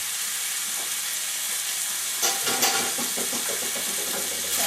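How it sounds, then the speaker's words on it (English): Polish kielbasa sausages sizzle and spit in hot oil, a dense steady frying hiss with a louder burst of crackling partway through as they are dropped in and moved around. "We take our sausages and we just throw them inside like that."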